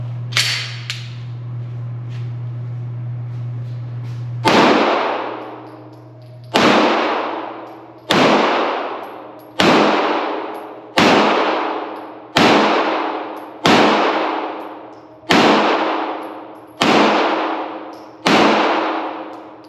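A CZ P-10C pistol fires ten MagTech 115 grain rounds: sharp, loud reports at a steady, fairly quick pace after a steady hum, each shot ringing out briefly with no talking.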